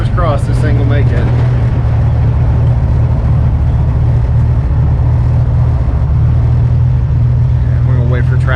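A 1965 Ford Mustang with a 289 V8 engine rumbles steadily and loudly up close as it pulls out onto a main road, with a person talking over the engine noise.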